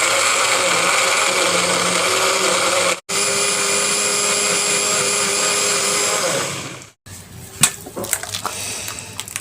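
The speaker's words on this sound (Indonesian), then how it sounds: "Jadi kalau ini di blender sama aja jadi tepung ya." A kitchen blender whirs loudly as it blends cassava with water, a steady high-pitched motor drone that cuts off briefly twice before clattering handling noise follows.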